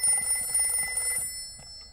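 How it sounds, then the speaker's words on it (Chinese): A telephone rings indoors with a rapid electronic bell trill, fairly faint and brief, cutting off partway through with a quiet room after. "我听到电话响"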